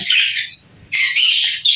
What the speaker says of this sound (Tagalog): So may mga ibon na rin dito, ayan yung ating mga local budgie. Then may kakatail din tayo